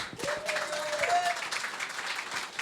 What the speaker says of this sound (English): Round of right. applause for these guys, man.